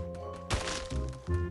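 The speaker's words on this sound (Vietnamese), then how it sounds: "Kìa, bóng keo vỡ rồi kìa." A gloo wall breaking in Free Fire, heard as a sharp crack and crash burst partway through, followed by lighter thuds over a steady game backdrop.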